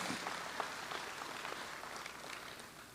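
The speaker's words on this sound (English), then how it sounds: "Let's give them all a big round of applause." Faint audience applause at a city lunch event, a brief scatter of claps over roughly three seconds in a large room, sounding thin and somewhat distant.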